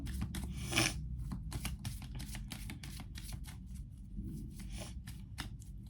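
Tarot cards are shuffled and drawn from a deck in a quick series of soft, crisp riffling flicks and slides, close and fairly quiet, with faint low background noise underneath.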